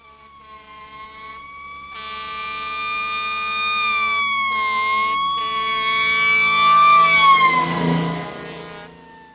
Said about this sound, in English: That was the fire truck.